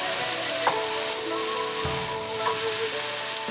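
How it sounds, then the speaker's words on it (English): Vegetables stir-fry in a hot pan with beef or chicken and coconut cream, a loud, dense, continuous sizzle heard up close with a few light clinks of the utensil and no voices. "stir fry until heated through"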